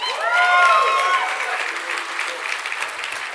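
Energetic crowd applause from a live event audience, loud and steady clapping that swells at the start then settles, with a few voices or whistles mixed into the opening moments.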